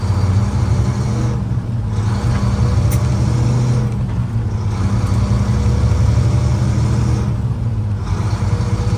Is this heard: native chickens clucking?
no